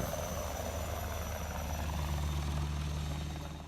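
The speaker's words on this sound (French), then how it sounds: "Pendant toute l'opération, un hélicoptère d'attaque Tigre surveille la zone." A Tiger attack helicopter flies overhead during a military operation, its steady rotor thrum and turbine whine continuous and fairly distant, fading slightly at the end with no voices.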